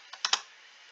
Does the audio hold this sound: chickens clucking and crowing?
no